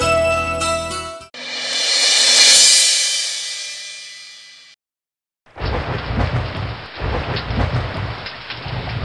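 Heavy rain with thunder: a musical sting gives way to a long, swelling rumble of thunder, then a short silence, then a dense, loud downpour pattering steadily on surfaces.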